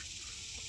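A pet goose gives a single short honking call, close and loud.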